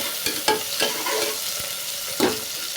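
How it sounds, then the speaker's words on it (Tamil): Onion and tomato sautéing in a pan for mint pulao, with a steady close sizzle and several scraping spatula stirs at irregular intervals, no voices. "கட் பண்ணி வச்சுக்க ஒரு தக்காளி ஆட் பண்ண போகிறேன். இதையும் நல்லா வதங்கட்டும்."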